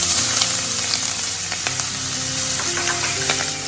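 Onions sizzling and frying in butter with cumin seeds in a pan for braised cabbage, a steady close crackle with occasional stirring clicks.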